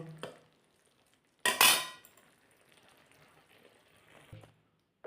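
Potol posto, pointed gourd in poppy seed paste, is scraped from a pan into a bowl. A few short, loud metallic scrapes and knocks break up stretches of near quiet.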